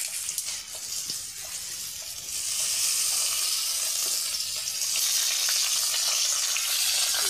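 Fish and greens frying in hot oil in a village outdoor kitchen, a steady loud sizzle and crackle that swells after a couple of seconds and holds continuously with no talk.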